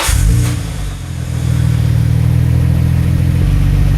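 Nissan Skyline GT-R with an RB26 engine, Blitz downpipe and Kakimoto resonator cranks and fires up, settling into a deep, steady, fairly quiet idle that carries on loud and close.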